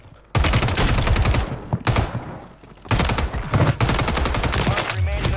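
Bursts of rapid SMG fire in a first-person shooter, loud and close, in two long sustained volleys broken by short pauses, with dense repeated shots and game effects beneath.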